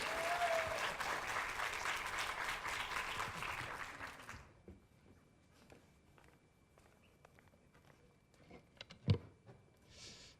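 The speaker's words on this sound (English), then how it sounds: "let's give him the biggest round of applause to Andre Chan" A keynote speaker gets a round of applause from an audience, dense clapping for about four seconds that stops abruptly, then quiet footsteps and small room noises.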